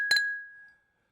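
A single bright clink of glass during a toast rings out clearly and fades over about half a second, alone.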